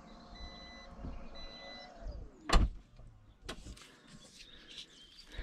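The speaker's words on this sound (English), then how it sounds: "pressing and holding the unlock boot will open it, and then we can do the same for closing it" The power tailgate of a Volvo, worked from the key fob, runs with a soft motor whine and then shuts with a sharp thud. A short beep and a fainter second knock follow, and nobody speaks.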